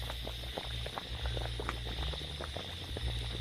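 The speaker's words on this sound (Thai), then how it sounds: "หัวมันนะครับกำลังต้มนะครับ เดือดเลยนะครับ" Cassava tubers boil in a pot, giving a steady bubbling simmer with scattered soft pops and gurgles, close and continuous with no talk.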